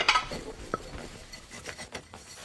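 Dishes and metal utensils are handled at close range, giving a few light clinks and scrapes with one sharper clatter among soft rubbing sounds, and no voices.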